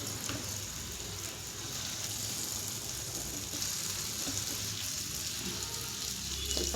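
Okra frying on a tawa pan, a steady close sizzle with a bright hissing wash running through the whole stretch without a break, and no voices over it.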